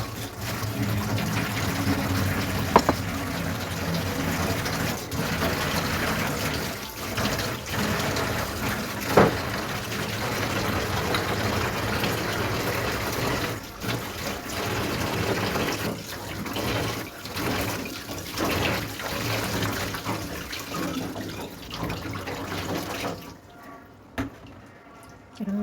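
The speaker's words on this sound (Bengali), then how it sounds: "এগুলো তো পানি পুরাইতে হবে।" Water runs steadily from a household tap into containers, a continuous splashing fill with small clinks and knocks from the vessels, fairly close, with a few soft taps near the end.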